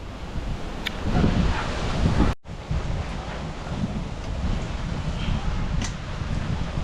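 Strong typhoon wind roars steadily across the microphone, a dense rushing buffet with a brief dropout midway, no voices heard.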